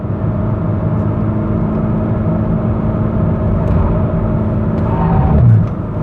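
A Honda HR-V accelerates hard through an empty corner, its engine note a steady, loud rumble and whir that holds throughout and swells briefly near the end, with no voices.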